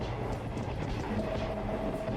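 A train ride in the video game What Comes After, with a steady rumble of rolling rail cars and faint clickety-clack throughout, continuous and fairly loud.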